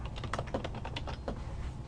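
Keys clatter in a quick, irregular flurry as a static route is entered on a computer keyboard, close and soft above a steady low hum.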